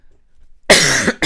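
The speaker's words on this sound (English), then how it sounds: "I'm sorry about my cough" A single loud, harsh cough bursts out after a quiet stretch, followed quickly by the start of another.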